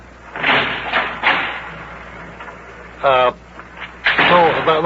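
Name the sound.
door opening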